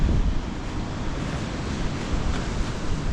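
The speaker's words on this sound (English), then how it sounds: "Look at the waves crashing in." Waves crash onto the shore at Bray, Co. Wicklow in a continuous, loud roar of surf mixed with wind buffeting the microphone, with no voices.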